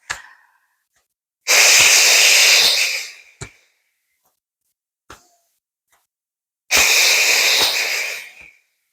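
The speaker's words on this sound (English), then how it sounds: "we're inhaling through the nose and exhale through the mouth" Purification breathing, inhaling through the nose and exhaling through the mouth: two long, loud, airy exhales through the mouth, separated by quiet pauses with a few faint clicks, close up with no talk.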